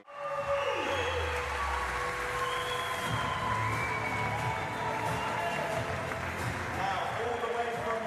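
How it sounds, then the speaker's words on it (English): Indoor crowd of friends and family cheering and making steady noise at a freestyle trampoline world championship final in the Round Chapel, a dense sustained roar throughout with talk mixed in. "Really good crowd inside the Round Chapel. They're making plenty of noise"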